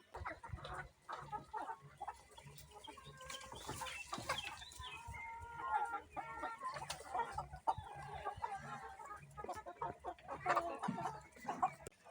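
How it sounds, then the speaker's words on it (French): Chickens clucking inside a henhouse on a poultry farm, a busy, continuous chorus of overlapping clucks and squawks from many birds close by. "nous sommes ici dans le poulailler"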